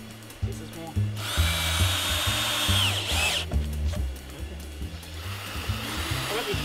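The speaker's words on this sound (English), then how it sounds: "put a screw through the centre" Power drill driving screws into a homemade solar heater, with repeated bursts of whirring motor noise at close range separated by short pauses; someone speaks briefly between runs.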